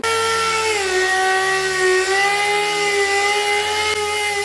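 A plastic headlight lens being wet-sanded by hand with fine-grit sandpaper on a soft pad, heard up close as a steady, continuous gritty rubbing with a faint tonal whine running through it, with no talking.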